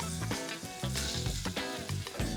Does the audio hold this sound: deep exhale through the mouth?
no